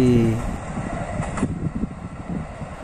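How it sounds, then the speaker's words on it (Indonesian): A JR205-7F ten-car commuter train rumbles past a closed level crossing in Indonesia, a steady low rolling roar with rhythmic wheel thumps, close and continuous, after a brief crossing-bell tone at the start. "JR205-7F formasi 10 kereta dengan display tujuan stasiun Bekasi"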